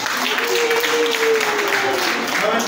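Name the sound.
applause for the father at a school wedding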